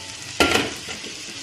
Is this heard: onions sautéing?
yes